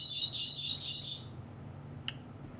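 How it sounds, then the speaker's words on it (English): A bird chirps and trills inside a house, a bright twittering run lasting just over a second, followed by a single sharp chirp a moment later over quiet room noise. "Is that a bird?"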